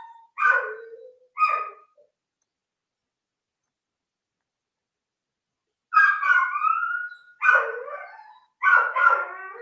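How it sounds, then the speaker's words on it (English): A dog close by gives a few short barks, falls silent, then lets out whining, whimpering yelps in an unhappy series, with no one talking. "that dog is not happy"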